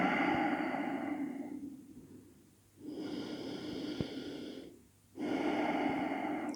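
Slow, deep breathing during a yoga pose, resting the forehead on a block: two long, close inhales and exhales with a quiet pause between, heard alone without talk.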